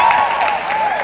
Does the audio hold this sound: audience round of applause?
yes